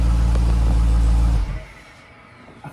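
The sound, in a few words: 2020 SRT car stock exhaust revving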